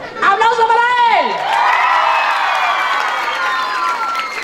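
At an outdoor stage during patronal fiestas in Quezaltepeque, an amplified voice sings a falling phrase before the festival crowd breaks into cheering and applause, a loud, sustained wash of shouts and clapping.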